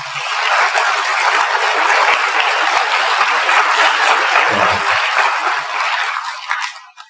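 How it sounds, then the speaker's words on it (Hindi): A large audience at a yoga day gathering claps loudly and continuously, a dense wash of applause that fades out near the end. "एक बार ताली बजाइए जोर से।"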